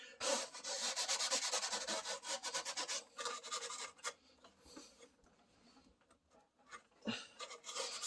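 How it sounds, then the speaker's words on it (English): A scrubbing pad scuffs painted plastic on a car headlight, making a close, steady, rhythmic rasping rub that is strongest early and then thins into lighter intermittent strokes, heard with no talk. "with a scrubbing pad, to give a chance to the paint to grip at the plastic"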